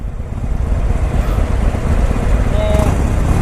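Harley-Davidson 2019 Iron 1200 motorcycle engine while riding, a steady loud low rumble with wind noise throughout, continuous and close with no pauses.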